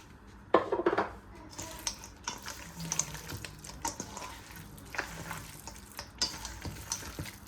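Chicken pakodi being mixed by hand with cashews, soft wet squelching and irregular clattering bumps against a bowl, close and fairly quiet, with no voices.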